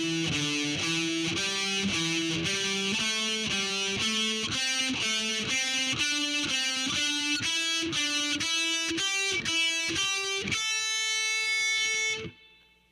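A distorted heavy metal electric guitar plays a riff slowly, about twenty evenly spaced picked notes in a steady stepping pattern, loud and close, ending on a final held note that cuts off.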